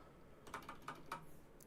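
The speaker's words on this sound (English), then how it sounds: "So you might hear my keyboard sounds and shit in the background" A computer keyboard clicks faintly in the background during a Star Citizen stream, with four or five quiet, separate keystrokes spread across a low ambient hiss.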